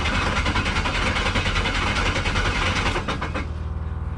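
A 5.3 LS V8 in an S15 hotrod with a loose torque converter runs with a loud, close, lumpy rumble and rhythmic pulsing, then cuts out abruptly near the end.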